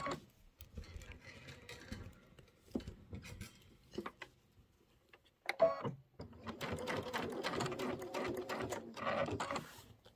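A sewing machine stitches ribbon onto a quilt, running in short bursts and then a longer steady rattling stretch, close and fairly quiet, with a brief clack of handling in between.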